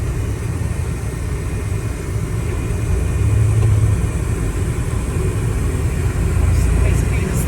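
A 1992 GMC Sierra pickup drives along with a steady, mid-pitched engine drone that dips and rises as it shifts up through its five-speed gearbox, heard from inside the cab with road rumble.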